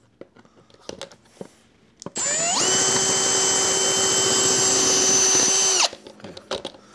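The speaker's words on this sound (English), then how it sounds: "And now from the inside, I'm using a drill bit that it's for metal," A power drill fitted with a metal bit bores into a metal piece of a roller skate, one loud sustained whining run of about three seconds between short handling knocks.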